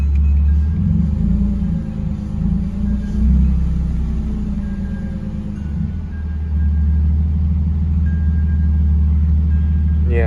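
A BMW E46 engine idles steadily up close, a loud continuous low rumble holding at one speed without revving.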